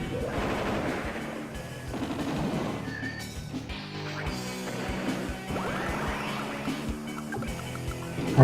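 Attack on an artillery unit in Advance Wars: Dual Strike, a stretch of rapid chiptune-style gunfire and crashing impacts over game music, moderately loud and continuous.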